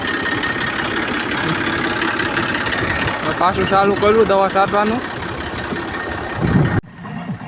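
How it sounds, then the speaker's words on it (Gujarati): A large tractor engine rumbles steadily on a farm, drawing nearer under continuous talking, then drops away abruptly near the end. "ભાઈનો મોટો ટ્રેક્ટર આકે છે"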